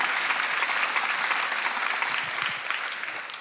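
Steady, dense applause from a church congregation during a Sunday worship sermon, many hands clapping together at an even level from start to finish with no voices on top.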